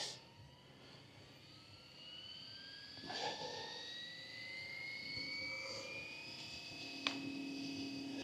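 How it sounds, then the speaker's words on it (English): A Fly Wing EC135 RC helicopter spools up, its whining rotor and motor tone rising steadily in pitch over several seconds, moderately close and gradually louder. "The helicopter is throttled up."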